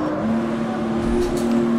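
A racing car engine in the CarX Street video game holds a loud, steady, sustained drone at near-constant revs with a faint rising whine late on, and no talking.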